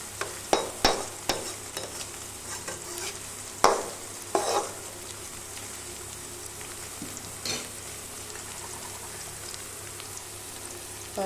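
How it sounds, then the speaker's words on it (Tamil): Onions and curry leaves sauté in a pan for goat head curry, with a continuous soft sizzle broken by sharp clanks from stirring. "இந்த வெங்காயம் கருவேப்பிலையெல்லாம் நல்லா வதங்கி வரட்டும்."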